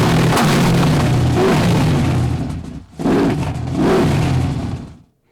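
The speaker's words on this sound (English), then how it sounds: "let's try something like a supercar revving its engine" An AI-generated supercar revving effect gives a loud, close, rumbling roar that holds, drops sharply near the middle, then surges twice more before ending abruptly.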